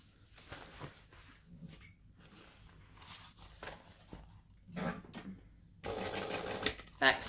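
A sewing machine stitching the gusset of a bag runs in a short whirring burst near the end, after quiet handling clicks and rustles with some soft speech.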